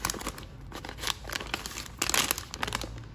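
Surgical cuticle pliers slide into a paper-and-plastic sterilization envelope, giving close, crinkly rustling and crumpling that swells briefly partway through.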